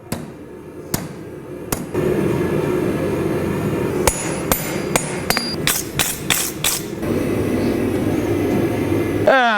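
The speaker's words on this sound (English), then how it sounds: "And now just a little tweak with the old hand hammer." A hand hammer taps a Damascus steel golf putter on an anvil, giving sharp ringing metallic strikes. A few come early and spaced out, then a quicker irregular cluster follows, loud and close.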